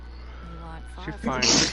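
A single short sneeze bursts out near the end, right after a stretch of speech, sounding close and fairly loud.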